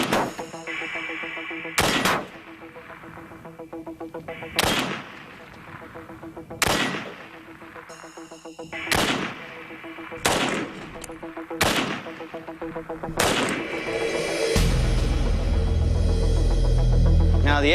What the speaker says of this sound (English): To leave an impression, I'm going to fire the AK-47.